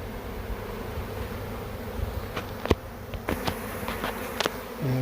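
Honey bee swarm fanning and marching up into hive frames outdoors, a dense continuous buzzing drone close by, with a few louder individual bees passing near.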